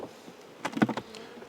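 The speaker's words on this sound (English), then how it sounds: "I think this is a good yard of bees" A faint honey bee buzz hums in the background around hives, with a brief louder burst of buzzing near the middle as a bee passes close by.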